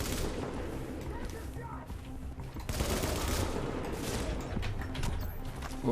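A rifle fires in The Division with heavy recoil, loud sustained bursts of gunfire rolling through the whole span under a voice.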